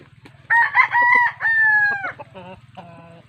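A very large rooster at a backyard breeding farm in Occidental Mindoro crows loudly and close by, a drawn-out cock-a-doodle-doo followed by a couple of short clucking calls.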